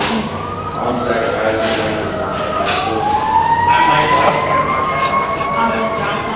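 Fire engine siren wailing loudly and up close, its rising and falling tone sweeping steadily through the whole stretch with a steady background roar beneath it.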